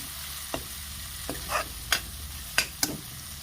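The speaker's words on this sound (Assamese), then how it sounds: "অকণমান সময় এনেকৈ ভাজিব লাগিব" Kidney beans cooking in a spiced masala with garam masala sizzle softly in a pan, broken by several sharp stirring scrapes and clinks of a spoon, close and quiet with no voices.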